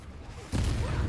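A Confringo explosive curse blast from the Hogwarts Legacy video game bursts in suddenly midway, a loud, broad booming impact that keeps roaring to the end over low combat rumble.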